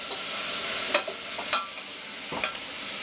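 Green beans and potato frying in rendered fat, a steady close sizzle with a few sharp stirring scrapes, no talk.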